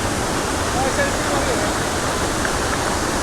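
The Iguazu Falls waterfall in Argentina roars as a steady, dense broadband rush that fills the clip at constant loudness, with faint voices barely audible underneath.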